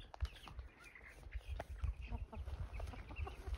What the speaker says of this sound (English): They're like the perfect hens.